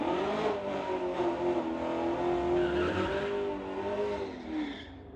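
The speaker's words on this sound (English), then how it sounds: "He's in the 88 Mustang going against the BMW in the pit side." A 1988 Mustang and a BMW run side by side at a drag strip, a sustained loud engine roar with rising and falling pitch as the cars pull away, steady throughout with no talk.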